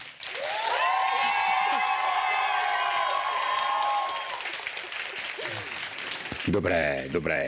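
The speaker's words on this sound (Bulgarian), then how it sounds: "На 3 искам да чуя вашите аплодисменти." An audience at an award ceremony claps and cheers on cue, with loud, sustained applause and whooping voices that fade after about four seconds before someone starts speaking.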